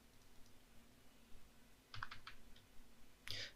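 Keys on a computer keyboard are typed in light, quiet clicks, scattered at first, then in a short burst of quick taps and a final louder clack, alone against a faint hum.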